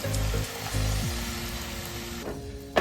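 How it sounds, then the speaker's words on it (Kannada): Milk poured into a hot frying pan sets off a soft, steady sizzle at close range, with a brief clatter at the end. "ನಾನು ಹಾಲು ಹಾಕ್ತಾ ಇದ್ದೀನಿ"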